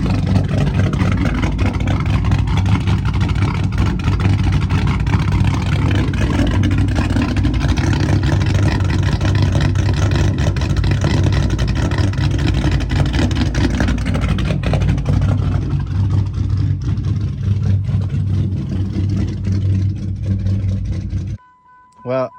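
A car engine running steadily right after a fresh set of ignition coils, a loud close droning idle that holds for about twenty seconds, then cuts out abruptly.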